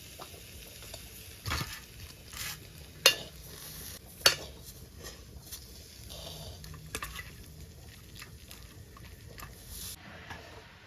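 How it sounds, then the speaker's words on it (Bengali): Cooked banana flower is scraped and scooped from a pan into a bowl, with soft scraping and a few sharp metallic clinks of utensil against cookware, close and intermittent, with no talking. "এবার আমি কলার মোচাটাকে একটা পাত্রে নামিয়ে নেব।"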